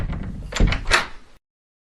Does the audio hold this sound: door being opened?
yes